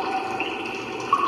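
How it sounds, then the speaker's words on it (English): Steady running water in a video game bathroom, a continuous faint wash of trickling liquid with no talk over it. "It's water or something."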